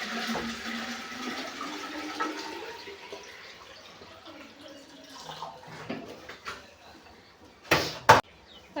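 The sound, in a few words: water being poured into a clay pot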